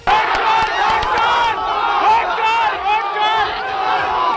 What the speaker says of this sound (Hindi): लोगों ने हूटिंग शुरू कर दी। हल्ला गुल्ला, शोर शराबा और जबरदस्त हंगामा हुआ।